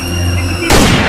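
A single loud, sharp gunshot bursts in partway through, after a moment of tonal background, and its broadband blast rings out to the end.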